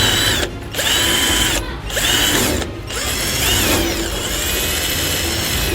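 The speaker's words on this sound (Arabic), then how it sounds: "هنبدأ صنفرة هنا كده" Sanding a Carrier air conditioner pipe before welding, a loud, steady power-tool whine broken by three short pauses, close and continuous with no talk.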